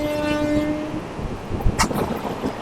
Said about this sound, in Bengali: এই মুহূর্তে আমাদের পাশে ছুটে চলেছে আরেকটি দ্রুততম ট্রেন